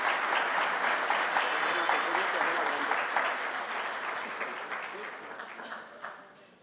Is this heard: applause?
yes